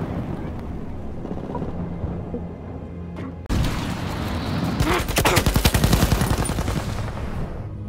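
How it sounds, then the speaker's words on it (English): Machine gun fire in the video game Battlefield 1, rapid bursts of loud gunfire that start abruptly and rattle on in a dense fusillade over wind-like background noise. "I'm looking at a machine gun."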